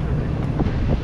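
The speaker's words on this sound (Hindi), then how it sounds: "तो अभी हवा चल रही है" Strong wind blowing outdoors on a street in Ginza, Tokyo, in late May, buffeting the microphone with a loud, continuous rumble and no gaps.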